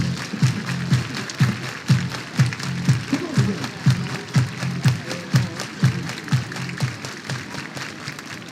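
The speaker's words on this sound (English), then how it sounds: "Everybody clap your hands." A baseball crowd at a Sea Dogs game claps in a steady rhythmic beat, about two claps per second, loud and sustained throughout with a faint voice underneath.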